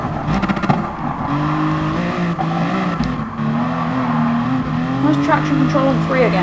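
Engine of the BMW Vision Gran Turismo race car in Gran Turismo Sport, a loud, sustained drone that rises and falls in pitch through gear changes, with brief squeals near the end and a voice talking over it.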